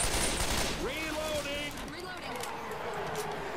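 Gunfire in the zombie shooter Left 4 Dead 2, a dense continuous crackle of rapid shots, loud and close, with someone shouting excitedly over it.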